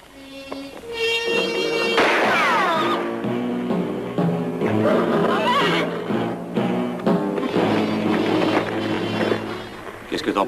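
Horses neigh and whinny loudly in a western-film scene of horse theft. The shrill, wavering calls repeat over several seconds against a busy mix of shouting voices and commotion.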